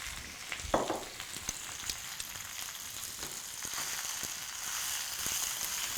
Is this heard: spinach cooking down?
yes